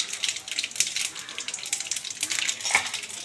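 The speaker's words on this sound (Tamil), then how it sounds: "அடுத்து ஒரு வானிலையில் கொஞ்சம் எண்ணெய் ஊற்றி கடுகு" Mustard seeds crackle and sizzle in a little hot oil in a pan, a steady bright spitting hiss with scattered pops, close and fairly loud, no talking.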